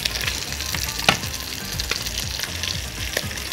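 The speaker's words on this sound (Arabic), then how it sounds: "خلينا نحمر في زبدة معلش." Meat pieces fry in butter in a pot with a close, crackling sizzle, broken by scattered pops and small spatters over a low hiss, with no voices.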